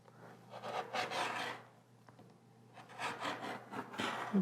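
Scissors trimming rick rack trim right against the edge of a fabric placemat, giving soft rubbing, rasping cuts in two bursts separated by a quieter pause, close and fairly quiet.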